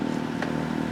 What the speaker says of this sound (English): So the engine's going at the moment.